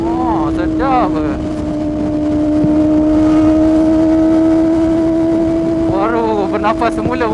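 Kawasaki ZX25R motorcycle engine running steadily while riding after a coil and plug change, a sustained droning tone with brief rising revs near the start and end, with a voice talking over it.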